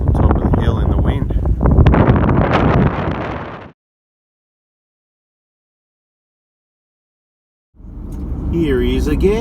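Strong wind on a hilltop buffets the microphone with loud, rough roaring gusts, which cut to silence for a few seconds in the middle and then resume.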